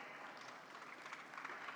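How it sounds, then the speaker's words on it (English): An audience at a rural food-technology roundtable applauds in a continuous soft patter of many hands, faint and steady for under two seconds. "You can keep clapping, it's a good exercise."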